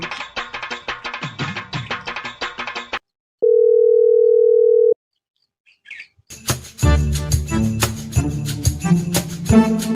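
A single steady electronic phone tone sounds for about a second and a half, between bursts of chirpy, busy music.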